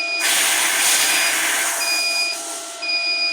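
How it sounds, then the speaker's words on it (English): Compressed air rushes from the bleed valve of a Vevor PCP high-pressure air compressor just pumped to 4,500, a loud steady hiss starting abruptly and easing slightly, with faint electronic tones running through it. "So let's release the bleed valve."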